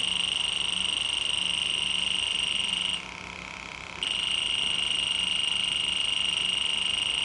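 A loud, steady high-pitched electronic buzzer tone from a Fieldpiece SRL2 refrigerant leak detector alarm drones on. It cuts out for about a second, then resumes. No voices.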